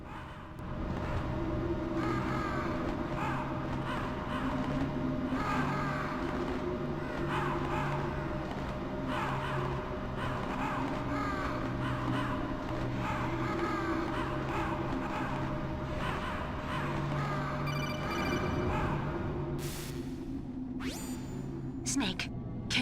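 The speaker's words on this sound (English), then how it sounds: "Oh, ravens, should I say." Ravens cawing repeatedly in the Metal Gear Solid PS1 game, harsh calls over a steady low ambient drone, with a few sharper sounds near the end.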